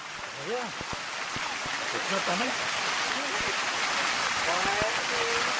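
Water spray from a water umbrella at a safari park pours down in a steady, hissing shower, while children squeal and shout close by.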